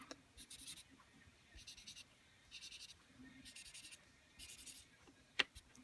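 A pencil sketching a sports car draws lines on paper in short bursts of soft scratching strokes, faint and close, separated by brief pauses, with one sharp tap near the end.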